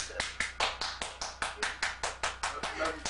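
Steady rhythmic clapping from an audience for the speaker, about a dozen evenly spaced sharp claps beating at a regular pace, moderately quiet and close.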